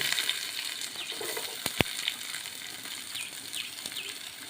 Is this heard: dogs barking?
no